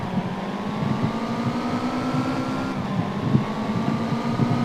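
Car engine in a mobile car simulator game revving up through first and second gear, a steady continuous drone with rising pitch that drops at a shift, close and loud with no talk.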